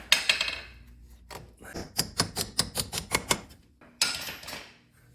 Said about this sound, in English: So I'll give this a little tap with the nut on there.